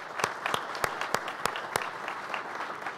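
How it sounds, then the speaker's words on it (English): Audience applause at an exhibitor introduction event, with a steady patter of many hands and several loud, regularly spaced claps from one nearby person standing out over the crowd. "If we could just give them a round of applause."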